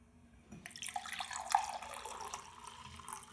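Liquid nutrients poured into a bucket about two-thirds full of reverse osmosis water, a steady close trickling splash that swells and then settles, with no voices.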